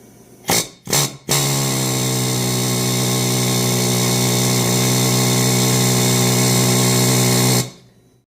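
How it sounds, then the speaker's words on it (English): A few short pneumatic bursts, then a long, loud, steady air hammer drone pressing out tight parts from a Farmall 450 cylinder head, running for several seconds before cutting off abruptly. "these were a little bit tighter than the air hammer can handle."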